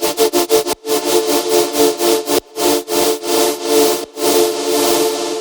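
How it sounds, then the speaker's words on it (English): A synth plays a repeating pulse that rises at the start of a break, loud and tonal, with choppy gated bursts that speed up and then lengthen into sustained throbbing swells. "as soon as the break starts, I have an LFO rise"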